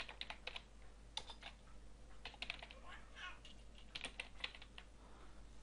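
Rapid clicking of a computer keyboard during an AutoCAD drafting session, quiet and close, arriving in irregular bursts of keystrokes with short pauses between them.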